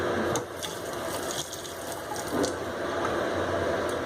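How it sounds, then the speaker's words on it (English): Tap water runs steadily into a sink during a clinical pathology rinse step, a close, even rushing stream with faint knocks, no talk. "And then we'll rinse it."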